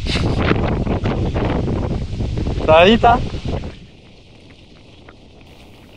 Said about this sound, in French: Le vent se lève, et du bon côté.